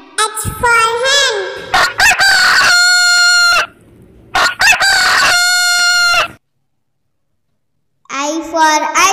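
Cartoon hen calls in a children's phonics song: two loud, sustained harmonic clucking-crow bursts, likely voiced, set between sung letter lines, with a brief gap of silence near the end before singing returns.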